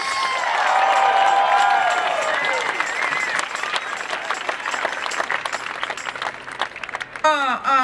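Dense, sustained crowd applause and cheering at an outdoor Save Australian Live Music rally in Melbourne, loud and continuous, with an amplified voice briefly over it at the start.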